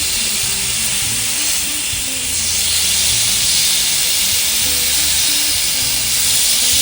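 Salmon and asparagus sizzle on a Ninja Sizzle electric grill as the pieces are flipped, a steady loud hiss of frying that swells slightly partway through, with no talking.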